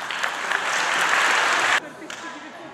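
Listeners at a wrestling section in Shali applaud a guest being introduced, a dense burst of clapping that cuts off abruptly partway through, with a few scattered claps after.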